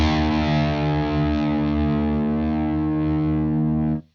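A distorted, effects-laden electric guitar holds one sustained note whose pitch wavers and drifts slightly, demonstrating tuning drift. It rings steadily and fairly loud for about four seconds, then cuts off abruptly, with no talking.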